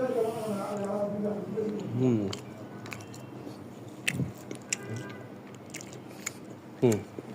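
Someone bites into and chews a coriander-based chicken hariyali kebab close to the mic. Soft squishy chewing and a few crisp bites and clicks follow, while a person talks at the start.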